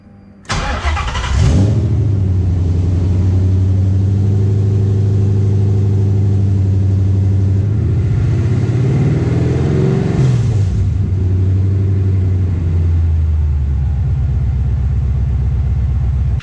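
A car engine with a newly fitted exhaust starts up close by, then settles into a steady, loud, low idle with a couple of brief revs before easing back down.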